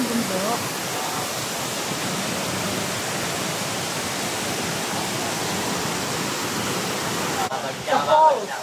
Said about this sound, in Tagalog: The falls.